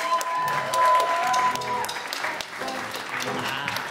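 An audience at a disability arts event applauds in a sustained wash of clapping. A brief tone and some murmuring sit under it early on, and the sound eases slightly toward the end.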